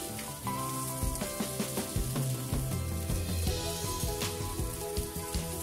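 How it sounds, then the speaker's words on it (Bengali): Raw long beans, cut into long lengths and left unsplit, sizzle and crackle steadily in a hot pan for a Chinese-style vegetable dish, a dense close frying hiss with bubbling pops and no talking. "এরপর এখন আমি এর মধ্যে দিয়ে দিব বরবটি।"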